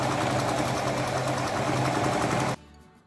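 Domestic sewing machine stitching scraps of fabric, a loud, rapid mechanical whir with a fast regular needle rhythm, running continuously before stopping abruptly near the end.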